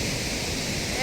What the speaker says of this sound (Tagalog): Grabe, napakalakas ng agos.